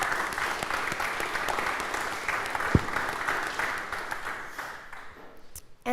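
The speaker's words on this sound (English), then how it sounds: "can we give them a massive, massive round of applause?" An audience at a live coffee event applauds its sponsors, dense steady clapping close by that thins and fades out near the end, followed by a brief sound as someone starts talking.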